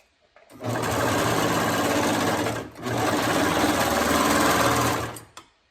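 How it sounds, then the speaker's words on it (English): A serger stitching a regular 4-thread side seam runs at a fast, steady hum in two long close bursts with a brief pause between them, with no talking. "So this will just be a regular 4-thread serge"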